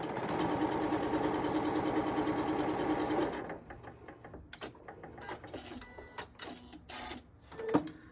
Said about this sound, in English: So I'm just going to stitch along this side, just using a 1/4 inch seam like we always do.